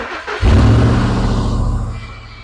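A 1979 Ford Bronco with open exhaust starts up sharply and settles into a loud, throaty idle with a rapid rumbling pulse, close by, easing slightly toward the end.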